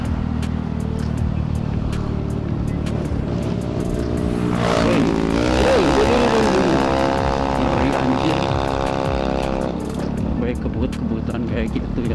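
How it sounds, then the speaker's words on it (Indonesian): A two-stroke motorcycle engine swells in and passes close by on the road, its rising then falling engine whine loud over steady wind and riding noise, with someone talking throughout. "Intinya dua tak lah, motor dua tak."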